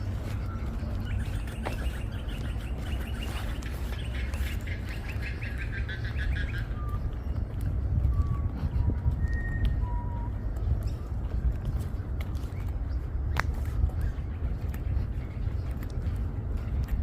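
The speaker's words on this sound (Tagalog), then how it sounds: "Ang ganda ng huni ng mga ibon." Birds chirp and trill intermittently over a steady low rumble of wind or an engine, the calls fairly clear but not close.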